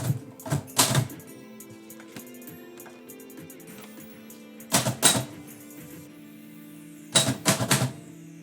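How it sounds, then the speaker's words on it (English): A manual typewriter clacking in short bursts of rapid type-bar strikes, three clusters separated by quieter stretches with a faint mechanical hum, loud and close with no talking. "it was making a clacking sound, which obviously typewriters clack, but not that much"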